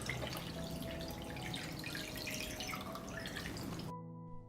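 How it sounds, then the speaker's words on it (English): Water pours steadily into a cooking pan holding glass jars set on a cloth, a continuous splashing rush that stops abruptly near the end, leaving a faint hum. "Pour water up to the height of the lid."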